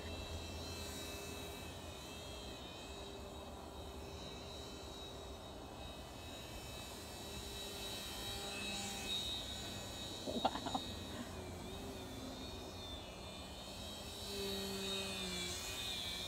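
A homemade model plane on its maiden flight gives a steady, fairly faint motor-and-propeller buzz that holds throughout, swelling slightly near the end, with no talking.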